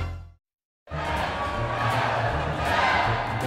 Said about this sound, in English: the crowd wants the Three Caballeros.